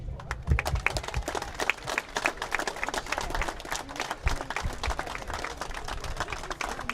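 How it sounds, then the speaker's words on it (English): A scattered crowd claps outdoors at a hot, sunny rally in Braintree, with distinct individual hand claps forming an uneven, moderately loud patter that continues steadily. "I'd like to give everyone here a massive round of applause"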